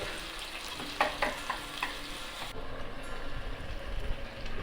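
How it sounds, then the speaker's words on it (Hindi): Vermicelli and onions frying together in a pan while being stirred, a close continuous sizzle with scraping clicks of the stirring spoon, the sizzle shifting tone partway through, no talk. "सेवई को बीच बीच में चला दीजिए, बहुत ज़रूरी है। प्याज को भी लाल होने दीजिए साथ साथ।"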